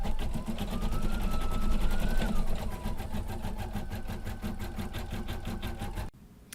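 An embroidery machine stitching a design's eyes in dark gray thread makes a fast, steady, mechanical chatter of needle strokes, loud and close, before stopping abruptly just before the end.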